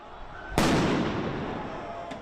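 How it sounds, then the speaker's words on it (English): A single loud firecracker bang goes off during a street protest as riot police move to disperse demonstrators, followed by a long echoing decay with faint crowd noise underneath. "Demonstrators retaliated with firecrackers."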